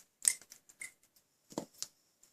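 Scissors cutting paper strips for a card, a few quick, soft snips and rustles up close in a quiet room, with brief gaps between the cuts.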